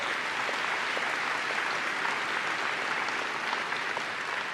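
Warm, continuous applause from a crowd of students, faculty and families at Bishop's University's 198th convocation ceremony, even in level and unbroken, with no talking.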